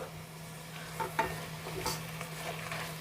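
Mint and coriander are stirred into rice frying in a pan, a soft steady sizzle broken by a few scraping stirs of a spoon, quiet and close with no talking.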